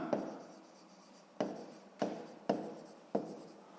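A pen writes on paper while a scale drawing is worked out for a sixth-grade math exercise. It sounds as close, soft scratching in several short strokes, each starting with a light tap, and no one speaks.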